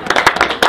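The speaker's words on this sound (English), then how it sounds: "one big round of applause for Mr. Rogers" A live audience claps and applauds at a political campaign launch event, a dense, steady burst of many hands clapping close by with no talk over it.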